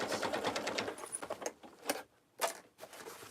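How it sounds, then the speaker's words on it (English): A sewing machine stitches a thick tote bag seam through the exterior bottom and front, running in a fast rhythmic patter, then stopping briefly before a couple of short bursts. "I am sewing down the length of this, just through the exterior bottom and the exterior front"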